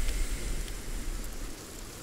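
Steady rain falls in the Sons of the Forest game world, a soft, even hiss of drops on surfaces with a low rumble beneath, fairly quiet and continuous with no voices.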